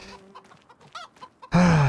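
Chickens cluck in the Farming Simulator video game in a run of short calls, then a loud, sustained squawk that sounds like a crow breaks in near the end.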